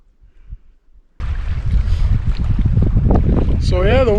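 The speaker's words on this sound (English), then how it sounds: "the wind's picked up a bit." Wind gusting over a large lake while canoe camping in Saskatchewan, a sudden strong rush of wind noise buffeting the microphone after a quiet start, with a brief whistling tone near the end.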